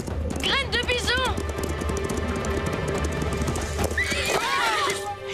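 A cartoon horse on the prairie lets out two shrill whinnies with hooves clip-clopping steadily underneath, all set against a musical score.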